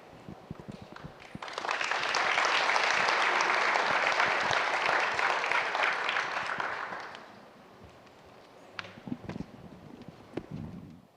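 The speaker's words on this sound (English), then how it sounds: "Another round of applause for Chief Donato and Deputy Chief Shaw." Audience applause at a special message event, swelling into a dense, sustained round of clapping for several seconds before fading to scattered claps and light room noise.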